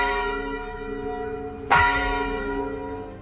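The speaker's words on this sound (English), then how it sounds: "The church bell tower stood there, distant but never silent." A church bell in a tower rings with a sustained, resonant harmonic hum, then a single fresh strike lands near the middle and rings out slowly, steady and unhurried, with no voices present.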